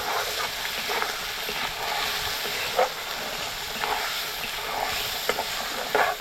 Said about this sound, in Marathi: आणि वाटण आपल्याला हे चांगलं असं परतून घ्यायचं बघा.